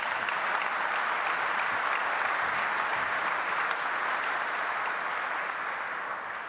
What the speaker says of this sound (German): ein kleiner Applaus für ihn